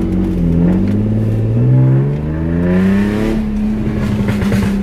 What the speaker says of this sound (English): new exhaust check